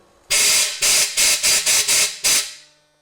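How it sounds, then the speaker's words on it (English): Compressed air from a hose nozzle blasts through a Chevy K2500 14-bolt rear axle in seven loud, hissing bursts. The bursts are close and evenly spaced, with a longer pause before the final blast. "now I'm just going to take compressed air, my nozzle, my air hose, put that in there and blow through"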